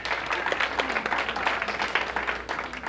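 A comedy club audience applauds in response to a stand-up comedian's question. The clapping is steady and moderately loud and carries on for the whole stretch, with light crowd murmur underneath.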